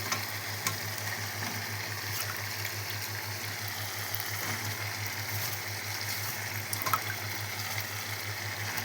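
Meat legs frying in a pan after being added: a faint, steady crackle and sizzle with an even low hum underneath and occasional small pops, with no one talking.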